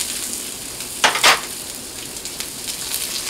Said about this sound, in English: Put a little oil down for our vegetables we're going to fry up first for our beans